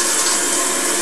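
Steady running water from a tap or shower pours continuously while hair is rinsed, a loud, even hiss with no talk over it.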